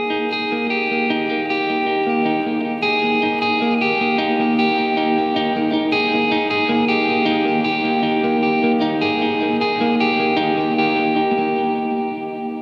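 A sustained electric guitar swell runs through Helix effects, giving a dense, shimmering ambient wash with reverb and echo. It stays steady and loud throughout, with no voices.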